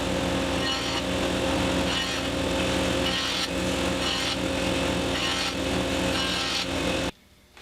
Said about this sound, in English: So I'll run these through my joiner planer to do that.